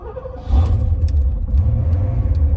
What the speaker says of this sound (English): Love the sound of the V8 here.